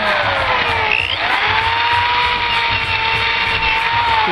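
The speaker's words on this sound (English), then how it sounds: "drill all these holes all the way up there" A power drill whines steadily and loudly, its pitch dipping briefly as it bites into wood for fretwork, then holding a continuous high drone.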